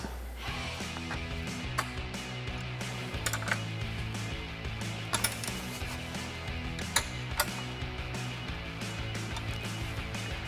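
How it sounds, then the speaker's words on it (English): A 7mm wrench snugging small nuts on a Bestop sunscreen fitted to a Jeep Wrangler JL hard top, heard as close, repeated ratcheting clicks over a steady mechanical hum throughout. "Take a 7mm wrench and just snug these up."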